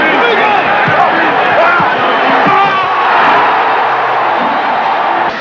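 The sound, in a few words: Madison Square Garden crowd cheering Patrick Ewing's slam dunk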